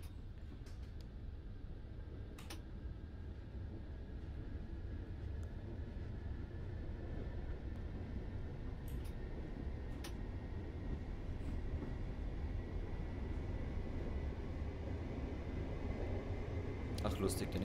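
A train runs in Train Simulator 2018 on the Hamburg–Hannover line, a steady low rolling rumble that slowly swells over the whole stretch, with a few brief clicks on top.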